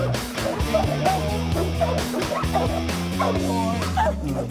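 Around twenty dogs in kennel cages barking and whimpering together, with yips and bow-wows overlapping almost continuously and close by, with no talk.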